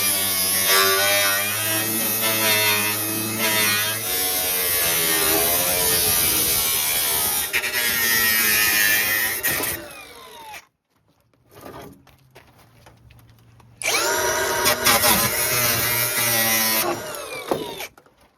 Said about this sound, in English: what I'm going to do right now is finish cutting out this tub